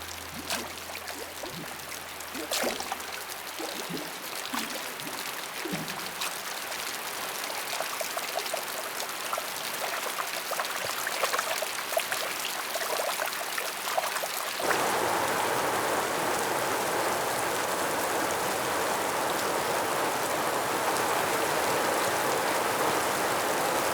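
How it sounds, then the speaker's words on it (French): Heavy rain pours down in a forest, a dense continuous hiss that begins more lightly with scattered drops and swells into a loud, even downpour for the second half. "Il ordonne une grande saison des pluies, un déluge sans précédent."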